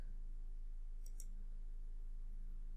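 Two quick, faint computer mouse clicks land close together as a double click while working in Excel, alone over a low steady hum.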